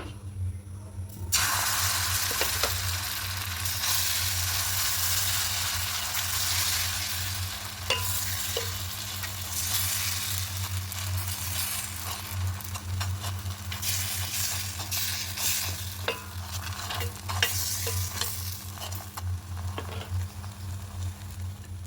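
Sweet batter for gola roti frying and sizzling steadily in a pan, a continuous close hiss with occasional stirring scrapes, no talking.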